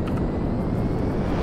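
A cargo plane's engine in GTA 5 drones steadily at a distance, a low even rumble with no talk over it.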